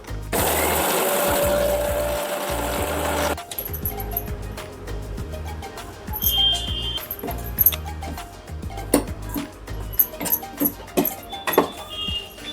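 A kitchen mixer grinder powders cooled roasted spices and dry coconut, roaring loudly for about three seconds before stopping, followed by clicks and rattles as the jar is handled.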